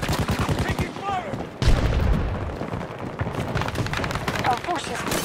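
Battlefield 2042 hardcore conquest gunfire, dense rapid automatic bursts mixed with heavy booms and explosions, loud and continuous with game voices under the shooting.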